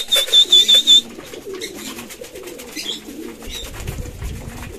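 Pigeons in a loft, with a nearby bird giving about five rhythmic, throaty coos in the first second, then quieter rustling and soft background movement.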